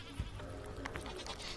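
A short, faint goat bleat wavers over a busy, hissing background.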